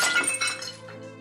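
A vase shatters in one loud crash, glass breaking and tinkling as fragments scatter and fade within about a second.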